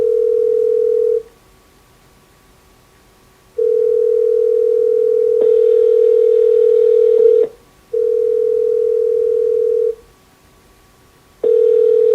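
Steady telephone tone repeating in long even pulses, as heard while a call rings out unanswered before reaching voicemail, with a brief higher buzzing layer over some pulses.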